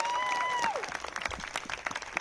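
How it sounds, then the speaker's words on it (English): Crowd applause at an outdoor reproductive rights rally in Seneca Falls, a dense spread of clapping with scattered cheers, loud and steady before thinning into lighter, uneven claps. "let's give a little round of applause to the enlightened men"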